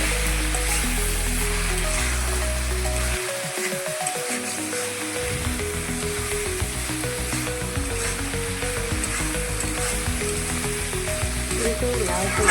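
Bottle gourd frying in plenty of oil in a pan gives a loud, continuous sizzle throughout, with steady tonal background sound underneath.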